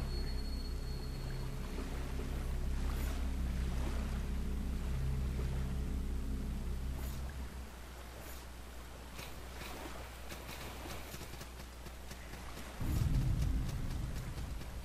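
Ocean waves wash against rocks in the video game Salt & Sanctuary, a low rolling surge with a swelling rumble that eases off midway and then breaks louder again near the end, with no talking.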